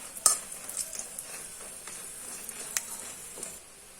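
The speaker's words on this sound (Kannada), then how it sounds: "ಕಾಳುಮೆಣಸು, ಸಾಸಿವೆ ಎಲ್ಲವನ್ನು ಇಲ್ಲಿ ಹುರಿದು ಹಾಕುವಂಥದ್ದು." Black pepper and mustard seeds dry-roast in a pan over a medium flame for a fish curry: faint close crackles and scattered pops over a soft hiss, with a few stirring scrapes and no voices.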